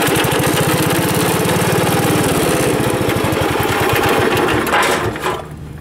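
A Wheel Horse tractor engine, just after a solenoid fix, runs with a loud, close, rapid chugging beat that shifts pace partway through before cutting off near the end.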